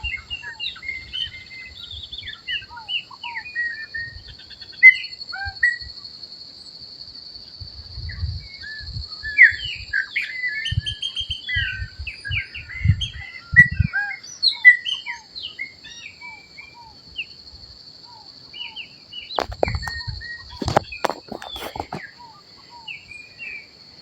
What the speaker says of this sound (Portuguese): Canta, meu pássaro preto,